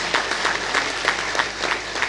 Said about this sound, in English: Please, a round of applause to all of them.